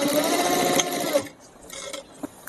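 A sewing machine stitching a kids' lehenga runs in a fast, close-up mechanical chatter that stops partway, followed by a few quieter short bursts and clicks.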